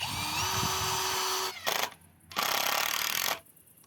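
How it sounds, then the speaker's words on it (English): Power drill driving screws into wood while building an outhouse from scrap materials, two long loud whirring runs with a brief pause between them, close up and alone. "Now we'll just screw it together to make ourselves happy."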